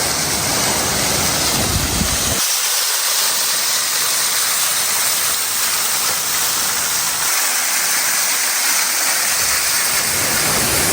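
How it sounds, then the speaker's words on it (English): A waterfall pours onto a Jurassic fossil-hunting beach, a steady loud broadband rush of falling water heard up close and continuous throughout, with no talking. "I'm actually going to head over to the waterfall now, just before I head up, just to get a closer look"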